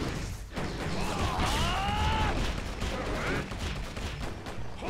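Gunslinger gunfire in the game Twin Saga, fought in a hot desert zone: rapid bursts of shots layered with ringing, sweeping effect tones, loud and continuous.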